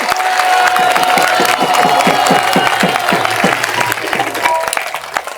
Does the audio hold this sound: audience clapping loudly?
yes